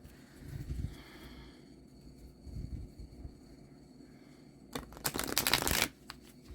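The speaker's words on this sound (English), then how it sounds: "let me cut this deck and then shuffle one more time" A deck of cards riffles in a brief, crisp burst near the end, after quieter handling and rustling sounds; close and fairly loud.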